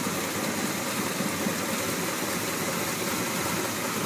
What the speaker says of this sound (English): You're going to hear the engine start and running. It's a big block, 454.